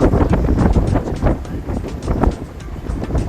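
Strong wind buffeting and rushing past on a boat on the Intracoastal Waterway, with a low engine-like rumble beneath, loud and continuous throughout.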